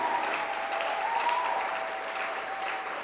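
Congregation applause during a church worship service, a sustained, moderately distant wash of clapping lasting the whole stretch without pause.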